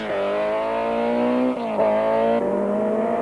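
A 1992 Volkswagen rally car on a dusty Algoa Rally stage, its engine roaring loud and close, holding pitch and then dipping sharply at two gear shifts.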